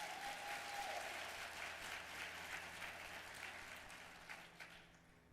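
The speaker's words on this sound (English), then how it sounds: "Give yourself a round of applause." Sustained applause from a large audience at a 20th-anniversary women's summit and awards gala, steady and fairly even throughout, fading slightly toward the end.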